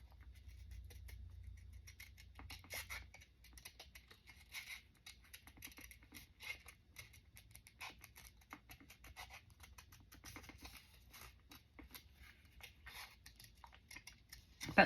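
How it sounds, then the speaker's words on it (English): Faint, close snipping of small scissors fussy cutting paper scraps, quick irregular cuts repeating throughout against a quiet background. "I'm going to fussy cut this really quick."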